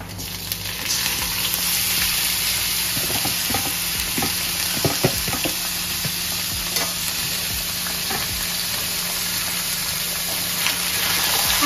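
Mutton hits frying onions in a pan for a saffron mutton bhuna, and a loud, steady sizzle fills the clip. Scattered stirring clinks and scrapes sit close under the continuous hiss.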